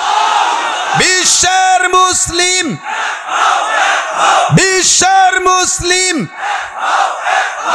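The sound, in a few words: crowd chanting takbir in response to call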